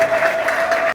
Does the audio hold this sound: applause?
yes